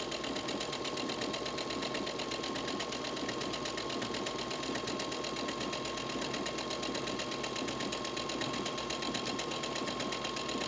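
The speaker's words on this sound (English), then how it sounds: "So you'll continue stitching all the way around all of your lettering and all of your shapes." Sewing machine stitching around lettering and appliqué shapes on a table runner, a steady, fast, continuous mechanical whir with rapid needle ticking throughout, close and unbroken, with no talk.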